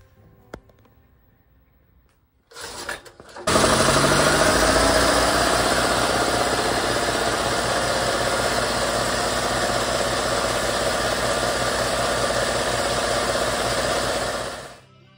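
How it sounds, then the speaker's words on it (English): A bead blaster works on a taped-off BMW R51/3 gearbox case in a long, loud, steady hiss. It begins after a brief start-up burst, holds for about eleven seconds and then cuts off. "to bead blast this gearbox case, this R51/3 gearbox that I'm putting together, rebuilding"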